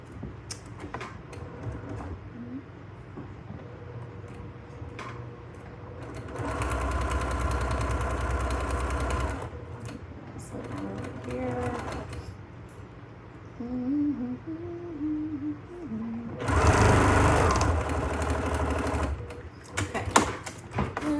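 A sewing machine stitching quilt block seams in two bursts of rapid, whirring stitching, close and fairly loud, with quieter handling sounds and fabric movement in between.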